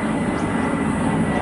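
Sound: airplane flying overhead

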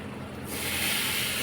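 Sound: cumin sizzling in hot ghee

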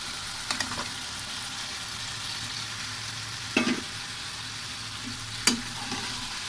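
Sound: chili spice paste frying and being stirred in a pan

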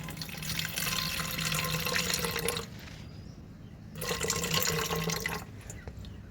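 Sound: pouring ash fertilizer solution into a two-litre sprayer

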